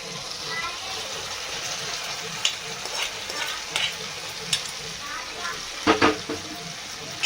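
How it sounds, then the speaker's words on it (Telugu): Pre-boiled chicken stirred into fried tomatoes crackles in the pan with a moist sizzle, punctuated by sharp spoon clinks and scrapes near the end. A voice murmurs faintly underneath. "ఇప్పుడు ముందే ఉడకబెట్టుకున్న చికెను ఇందులో వేసేయాలి."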